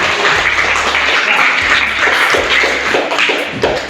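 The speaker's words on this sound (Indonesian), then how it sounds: "Tepuk tangan dulu." Students applauding in a secondary school classroom during a physical education lesson: a dense, continuous patter of many hands clapping at once, loud and close, with a few thuds underneath.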